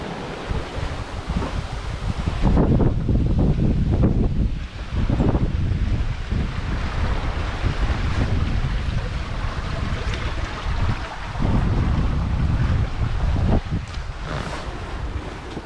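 Wind of 13 to 15 knots and breaking waves around a sailboat making 6 to 7 knots, a steady loud rush of wind noise and surging water that swells and eases in waves, with no voices.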